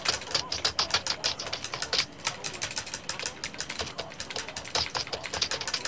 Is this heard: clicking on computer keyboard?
yes